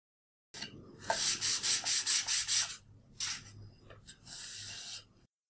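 Mother of pearl is cut and fitted into a custom mandolin's truss rod cover, a series of short, close rasping and rubbing strokes in quick rhythm, followed by a few separate scraping passes.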